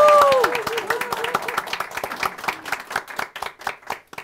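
An audience at a Korean book forum applauds as the author is welcomed. The clapping is sharp and rhythmic, close by and irregular, and fades gradually after a loud, sustained opening tone.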